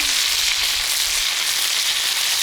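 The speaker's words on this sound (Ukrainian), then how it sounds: "Коротше, я смажу і одразу м'ясо." Meat fries on a hot saj griddle outdoors, a close steady sizzling hiss with faint crackles throughout, no talking.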